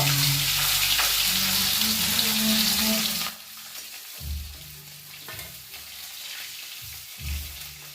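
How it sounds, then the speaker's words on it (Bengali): Loud, close sizzling of tangra fish frying in oil for a few seconds, then the crackle drops to a quieter spitting with occasional bursts. "দেখুন মাছগুলো আমার প্রায় ভাজা হয়ে গেছে,"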